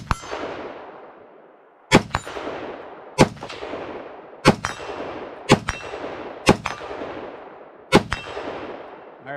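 A Foxtrot Mike .223 Wylde rifle fires eight sharp, loud shots at an outdoor range, spaced about a second apart, each crack trailing off in a ringing, metallic decay.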